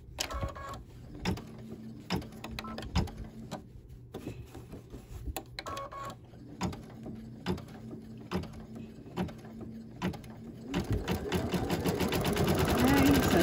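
Embroidery machine stitching a fabric doll, a steady rapid mechanical whir and tapping that runs throughout, with brief pauses and a louder, busier stretch near the end.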